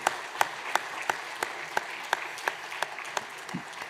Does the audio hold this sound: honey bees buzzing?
no